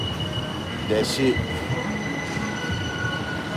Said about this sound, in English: Got a train above me.